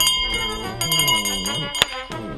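Small bells jingle briefly amid Romanian carol singers' voices, with a sharp ring standing out near the end over the chanting.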